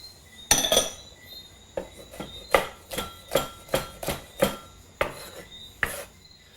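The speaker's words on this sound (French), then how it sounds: "je hache grossièrement l'ail et les piments végétariens" A knife chops garlic and peppers on a cutting board in quick irregular strokes, crisp close taps with short pauses between bursts, no talking.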